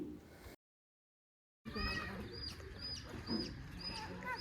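A young chick peeps in short, high, repeated chirps, fairly close, over low background noise, with a brief dead-silent gap near the start.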